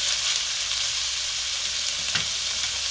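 Carrots and celery for a lasagne sauce frying gently in a pan, a steady even sizzle with one soft knock of a stirring utensil near the end.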